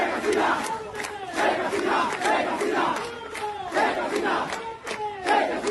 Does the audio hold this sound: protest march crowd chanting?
yes